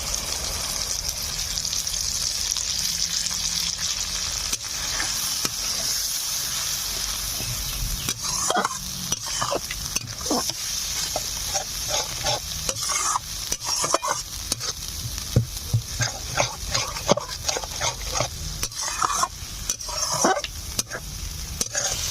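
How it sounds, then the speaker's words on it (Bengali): Poppy seed and cashew paste stirred into frying masala for a Bengali katla fish kalia, with a steady low sizzle and irregular spoon scrapes and clicks against the pan; a dog may bark faintly. "পোস্ত আর কাজু বাদাম দেওয়ার পরে আমি 1 মিনিট মতো নেড়ে চেড়ে নিয়েছি।"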